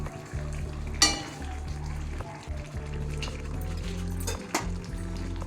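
Shol fish (snakehead) kadhai curry simmers in a pan with a steady close sizzle and bubbling, a few soft clinks rising above it.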